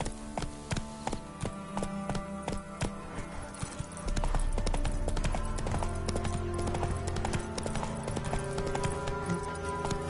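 Horse hooves clip-clopping in The Witcher 3 video game, a rapid steady trot of hoofbeats close up, joined by heavier galloping rumble partway through.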